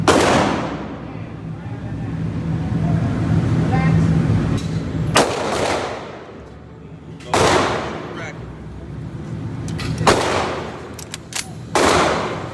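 Handgun firing at an Illinois concealed carry training range, with several sharp, loud reports spaced a couple of seconds apart and ringing decays, following range commands spoken beforehand.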